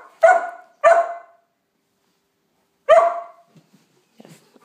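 An Airedale terrier puppy gives three sharp, close barks, two quick ones and then a third after a pause, with small faint sounds trailing at the end.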